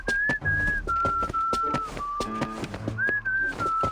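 A woman whistles a simple, broken tune of sliding held notes over background music with soft percussive taps.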